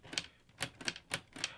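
Keys clicking on a LEGO Ideas 21327 typewriter model, five crisp plastic taps at an uneven typing pace, close and fairly quiet, with no voices.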